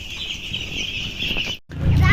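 Chickens and small chicks clucking and peeping at a rural family home, a steady chorus of close cluckings followed by a brief cutoff and a louder rustle.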